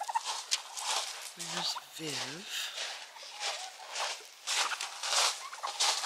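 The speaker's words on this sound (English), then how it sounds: "Turkeys are taking everything off the desk again" Turkeys make brief warbling gobble-like calls indoors inside an off-grid greenhouse under construction, amid pattering, scratching and shuffling as they move items around, with a person speaking briefly nearby.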